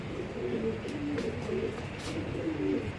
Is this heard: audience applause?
no